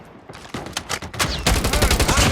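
Bursts of rapid assault rifle fire in a multiplayer shooter video game, loud and close, building from scattered shots into a sustained dense volley.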